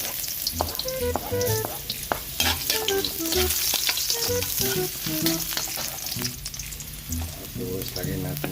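Ginger sizzles in hot oil for chicken tinola, a busy close crackle with repeated clanks and scrapes of a utensil against the pan, and a voice talking briefly.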